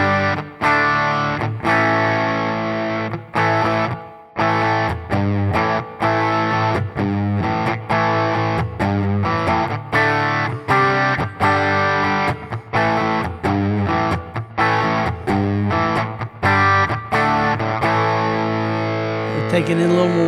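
Electric guitar through a Wampler Brent Mason ReWired overdrive/distortion pedal: loud, sustained distorted chords and riffs with brief gaps between phrases, thick and close.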